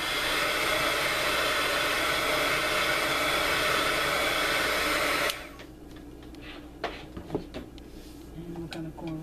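A loud, steady hair-dryer-style blower dries water off a paper art tag, a constant rushing roar for about five seconds that cuts off abruptly, followed by quiet handling clicks and rustling.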